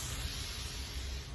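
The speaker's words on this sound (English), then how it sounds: "It's like a continuous spray." A continuous-spray bottle mists water in a steady, soft hiss that runs unbroken for the whole moment, faint and close.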